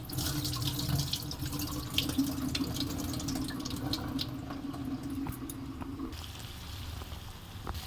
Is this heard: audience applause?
no